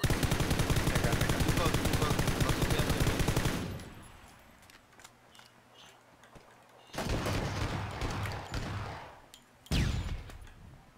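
Dense automatic gunfire rattles fast and loud in a PlayerUnknown's Battlegrounds match, stops, then returns in two more bursts, the last one short, with quiet game ambience in between.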